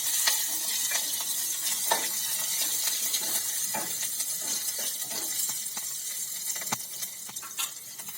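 Strips of chilli, carrot and cabbage hiss and crackle in hot tempering oil with hing as they are stirred, a steady close sizzle with scattered utensil clicks and scrapes.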